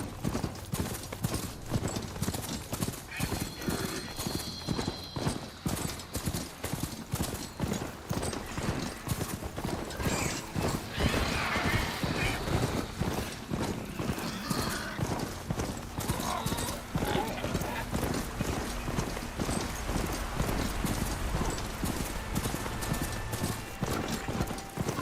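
A rideable machine mount in Horizon Forbidden West gallops along with rapid, steady hoof-like clip-clop footfalls and an occasional whinny-like cry. Game speech and ambience play underneath.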